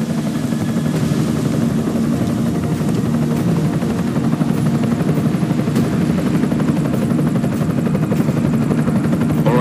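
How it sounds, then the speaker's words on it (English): An enemy helicopter in the video game Deus Ex: Mankind Divided, heard as a loud, close, continuous rotor thump and engine drone that holds steady throughout with no talk. "Enemy helo sighted."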